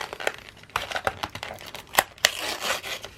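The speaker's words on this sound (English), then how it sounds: "we're just going to rip this off, get this open" Thomas & Friends toy packaging being ripped open makes a run of sharp, close crinkles and tearing bursts of plastic and cardboard in irregular clusters.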